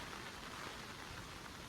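Heavy rain falling outdoors, a dense, even hiss of downpour with no breaks, steady and moderately distant, with no voices over it.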